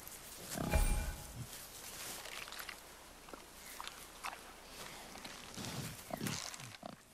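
Wild boar in God of War gives a few low grunts and snorts, loudest in one short burst near the start, with quieter shuffling and rustling outdoor ambience afterward.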